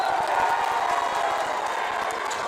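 A basketball arena crowd at a men's college game roars steadily, a dense wash of cheering and noise with footsteps, brief and loud throughout.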